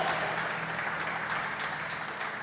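A church congregation applauds during a sermon, producing a dense, continuous wash of clapping at steady volume, heard alone without talk.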